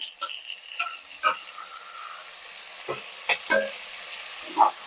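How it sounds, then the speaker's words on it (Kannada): Chopped tomatoes go into a pan of frying onions while making egg biryani. A steady low sizzle runs throughout, broken by several sharp clinks and stirring knocks from the pan. "ಇದಕ್ಕೆ ಕಟ್ ಮಾಡಿರೋ ಟೊಮೆಟೊ ಹಾಕ್ತಾ ಇದ್ದೀನಿ."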